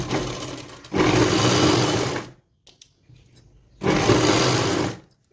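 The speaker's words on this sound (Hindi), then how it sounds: "इसके ऊपर हमें दाब सिलाई लगानी है।" Electric sewing machine running a seam on a cotton petticoat, a loud, close whirring buzz in two long bursts of about a second and a half each, with a brief quiet gap and faint handling between them.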